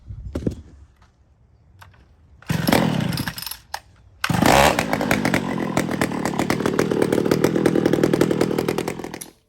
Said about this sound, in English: So I think this saw is strong enough to grant a carburetor swap.